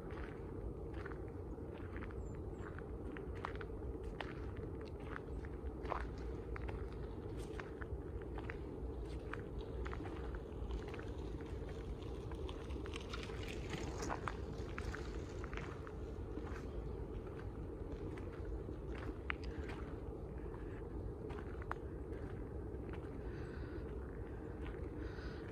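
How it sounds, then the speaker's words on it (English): Footsteps crunch steadily along a gravel path through a German forest, soft and close under a constant low ambient hum, with no talking. "The ground beneath my feet changes slightly, with more gravel present, and I listen to the crunching of my footfall"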